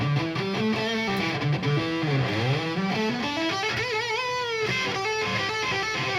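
An electric guitar run through heavy distortion in Guitar Rig plays a lead line with bends and sliding pitch. The tone is loud, saturated and sustained, with no talking.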